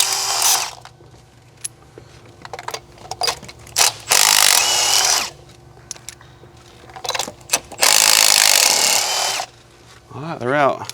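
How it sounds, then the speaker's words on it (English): Impact wrench on a Ford Escape spinning out spark plugs, giving several loud, rough bursts of a few seconds each, separated by quieter gaps with low engine-bay hum. "so I'm not afraid of just busting these out of here with the impact"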